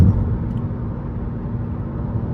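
A 2012 Buick LaCrosse Premium II with a 3.6L engine cruising on the road, giving a steady, even low hum of engine and road noise without breaks.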